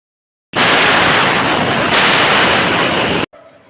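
A loud, steady rush of hissing steam bursts out of a pressure cooker, continuous broadband noise for nearly three seconds, then cuts off abruptly.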